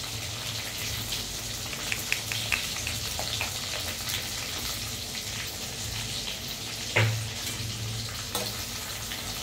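Brinjal fries in a pan with spice masala and coriander powder, giving a continuous soft sizzle broken by a few sharper scrapes and clinks as it is stirred, with no talking.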